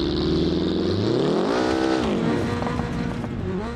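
A car drifts around a rally circuit in a video game, its engine droning loud and close with a rising and falling revving pitch as it slides through the turn.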